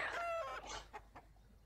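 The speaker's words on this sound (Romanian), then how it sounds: "Ați auzit ca găini." Chickens in the tribe stage of Spore let out a quick clucking, crowing call followed by a few short clucks, faint and brief with no talking over them.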